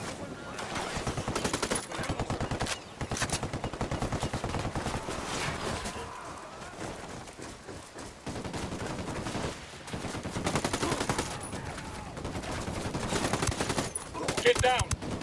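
Gunfire rattles through a firefight in the video game Ghost Recon Wildlands, dense bursts of automatic shots and scattered single cracks rolling on continuously, with voices talking over the shooting.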